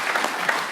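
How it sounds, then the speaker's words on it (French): An audience at a COP21 round-table conference on mobility and logistics applauds, a dense, steady patter of many hands clapping at moderate level with no voices over it. "on l'applaudit aussi d'être parmi nous ce soir"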